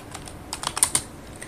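Quick burst of keystrokes on a computer keyboard, several close clicks in an uneven cluster that fades into quiet room noise.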